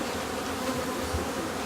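Honey bees buzz in a steady, close, low drone during a hive mite inspection, a brief, continuous hum with no talk over it.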